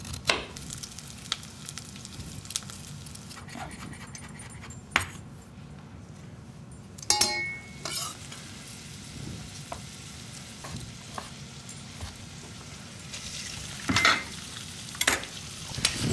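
Ginger sizzles in olive oil in a sauté pan with shallots and garlic, a steady hiss of frying broken by occasional clinks and stirring scrapes of a utensil against the pan.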